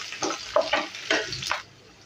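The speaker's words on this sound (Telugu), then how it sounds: "చూడండి, ఉల్లిపాయ చక్కగా వేగిపోయింది." Onions, green chillies and cashews frying in oil in a pan for leftover-rice mint pulao, heard as bursts of stirring scrapes and crackling sizzle, close and fairly loud, stopping near the end.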